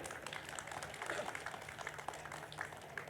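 An audience at a village meditation awareness gathering claps loudly for an honoured volunteer, a dense, steady burst of applause that fills the whole stretch at close range.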